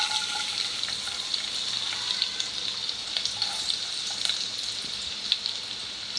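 Onion fries in a pan for a spicy Konkani-style fish curry, a steady hissing sizzle with small crackles throughout, close and even, with no talk.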